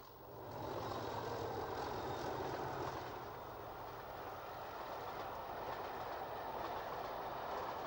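Diesel locomotive D6845 rumbles past hauling the Master Cutler Pullman train at Retford, its deep engine drone swelling in after a quiet start and holding loud and steady.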